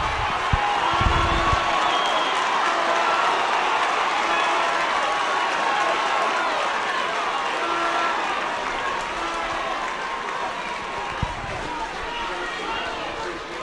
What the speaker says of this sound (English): There's a big crowd below me, they're cheering on, both teams are being cheered on.